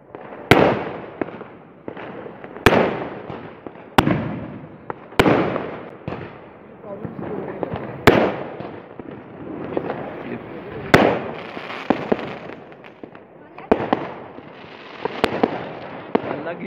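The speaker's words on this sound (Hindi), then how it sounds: "ये देखिए कानपुर की आतिशबाजी।" Sharp Diwali fireworks bangs burst at irregular intervals over Kanpur, each followed by crackling and rumbling echoes, with a crowd murmuring in the background.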